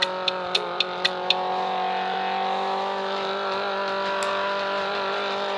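Engine revving in a car simulator video game, a steady droning motor tone held throughout, opening with a quick run of sharp clicks, close and fairly loud with no voices.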